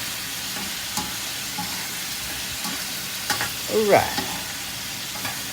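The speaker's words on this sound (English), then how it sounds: "We're going to get everything incorporated here and stir it up." Food sizzling gently in a pan while a utensil stirs and scrapes, with occasional louder clinks and a brief burst of activity midway; one short spoken remark comes early.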